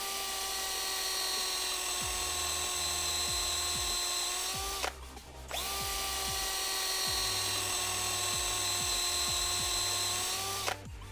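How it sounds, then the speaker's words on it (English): A carbide end mill squares the ends of a wooden pen blank, giving a high, steady whining drone that cuts off briefly midway and then resumes, with repeated ticking underneath. "I'm going to take an end mill, and what this does is has carbide cutters on it. It's just going to run down in here, it's going to square everything up"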